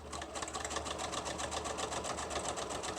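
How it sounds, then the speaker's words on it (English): A sewing machine runs steadily, stitching across ribbon on a paper journal made from packing paper, a close, continuous whirring hum with a fast, even needle rhythm throughout. "And this will sew over the ribbon again too, so it's going to give that additional holding power."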